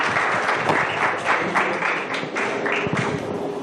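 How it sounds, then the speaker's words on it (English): An audience claps at a Tel Aviv hackathon night event, giving a steady round of applause that runs loud and close for several seconds, with no talk over it. "Clap. Clap."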